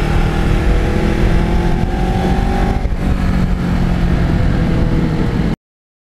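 A 2009 Kawasaki Ninja riding at steady speed, its engine giving a loud, continuous droning rumble with wind noise and a brief dip in pitch partway through before holding steady again.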